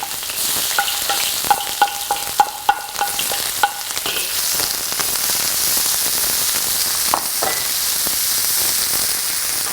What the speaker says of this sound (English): the next thing I'll be doing here now is I'm frying up my onions.